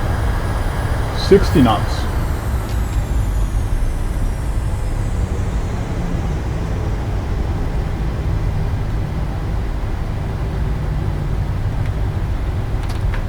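A Boeing 737 in a flight simulator game rolls down the runway after landing with reverse thrust, a low steady engine rumble that holds and slowly eases, while a voice calls out briefly near the start.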